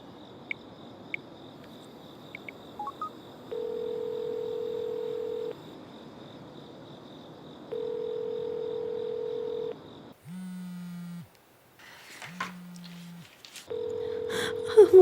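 A phone call rings out repeatedly, long even tones with pauses between them, over faint background chirping and some short electronic beeps.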